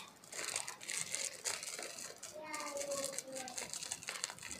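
Small plastic snack bag being folded for packaging, close crinkling and rustling that runs throughout at a moderate level.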